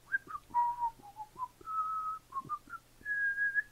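A lone whistled tune in short, wavering notes with a couple of longer held tones, fairly close and clear, with no talking over it.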